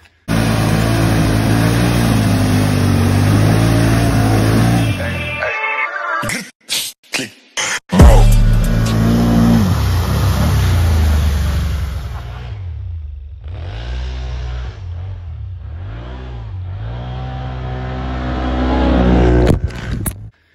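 ATV side-by-side engine revving loudly while riding, a steady roaring drone that cuts out briefly, then surges back with rising and falling revs before fading near the end, with no speech.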